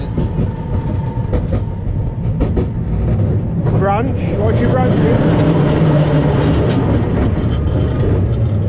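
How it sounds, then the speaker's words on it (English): A moving vehicle gives off a loud, continuous rattling and metallic twisting noise over a low rumble on a road trip in France, with people talking over it and a brief squeal partway through. "There's a weird rattly noise coming Yeah, it rattles a bit. It's like a metal twisting noise."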